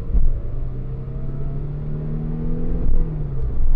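A Mercedes C280 W203 estate's 231-horsepower V6 engine revs up, its rising tone climbing steadily and close, with a brief dip before pulling higher again.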